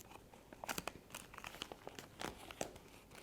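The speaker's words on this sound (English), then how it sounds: "Put another piece of tape here." Strips of tape being torn and pressed on to cover a child's toy drum, coming through as close, crinkly crackling and tearing bursts in quick succession, fairly quiet and with nobody speaking.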